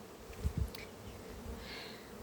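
Bees buzz and drone around a beekeeper's hives, a few close passes flaring briefly over a soft, continuous hum of insects nearby.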